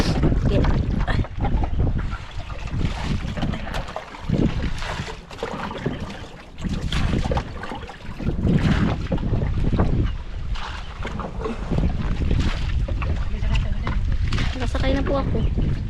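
A boat ride on open water with steady wind buffeting and the constant rush of water along the hull, loud and close throughout, with voices talking over it.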